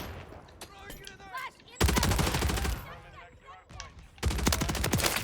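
SMG bursts in the Modern Warfare 3 beta shooter game, two long rapid-fire sprays of automatic gunfire separated by quieter gameplay, with a voice talking underneath.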